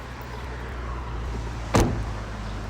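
A car door shuts once with a short, solid thud during a driving lesson on a test course, set against a steady idling engine hum.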